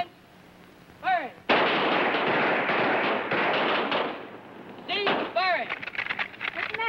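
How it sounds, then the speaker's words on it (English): A volley of rifles fires on a military shooting range, a dense roar of overlapping shots lasting a few seconds, with commands and whistling tones around it. "Ready on the firing line. Commence. Firing."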